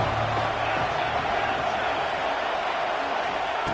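A stadium crowd at an Auburn versus Georgia college football game roars in a steady, dense wash of cheering that never lets up.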